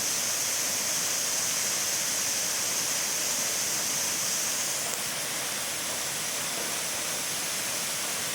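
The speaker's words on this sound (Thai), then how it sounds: "ไปดูน้ำตกที่กำลังไหลลงมา" A waterfall at Thung Na Mueang in Ubon Ratchathani, Thailand, pours in a steady, dense rushing roar, continuous and unbroken throughout, fairly close with no voices.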